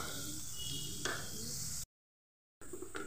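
Two thinly sliced onions frying in a pan make a soft, steady sizzle with a few stirring scrapes, broken by a brief silent gap before the sizzling resumes.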